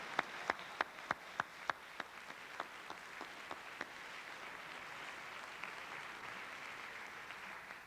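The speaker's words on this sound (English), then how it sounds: "Please join me in a round of applause for Anna Han over here, our pianist" Audience at a 2002 senior recognition event applauding a pianist, a few distinct loud claps up front giving way to soft, dense, distant-sounding clapping from the crowd.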